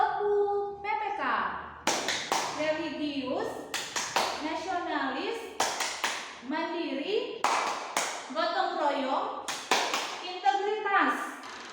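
Rhythmic hand clapping from a group doing the Tepuk PPK clap chant, sharp claps landing in regular bursts between lines of loud sung chanting voices, including children's voices.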